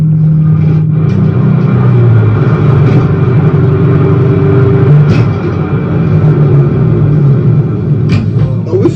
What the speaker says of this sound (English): shows a car speeding down Highway 78 at around midnight